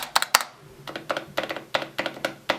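Typing on a Nova Touch keyboard, a quick close run of clacking keystrokes at a moderate level, irregular in rhythm and with no voices.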